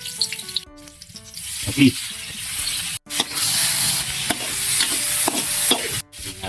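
Garlic and onion sautéing in hot cooking oil for pakbet, a loud, close, continuous sizzle broken by brief pauses and stirring scrapes, with a single short spoken word.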